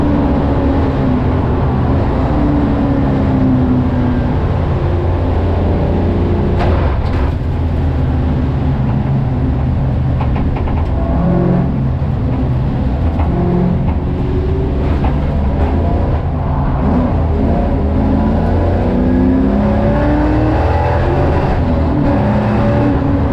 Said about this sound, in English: Greg Hurst's MR2 was dealing with the wet track with aplomb.